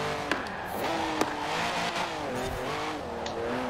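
A car in Forza Horizon 4 drifts through a turn, its engine revving in rising and falling sweeps with a few sharp clicks, heard fairly faint and steady with almost no talk over it.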